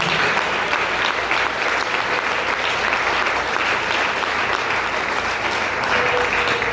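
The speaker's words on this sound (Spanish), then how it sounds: "Ese aplauso al Señor de la gloria." A church congregation at a Sunday school service applauds steadily and densely, a sustained wash of clapping with no voices over it.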